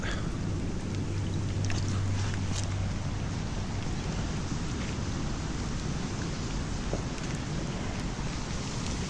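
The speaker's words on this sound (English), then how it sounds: "Okay, the rain come" Steady rain falls in a dense, even hiss, with no voices and a faint low rumble underneath.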